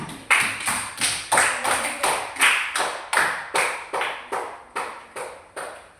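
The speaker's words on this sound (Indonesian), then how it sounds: "beri tepuk tangan buat kelompok 3" A classroom of students claps for group 3 in a quick, regular rhythmic pattern of sharp, loud claps that repeats for several seconds, with no talk over it.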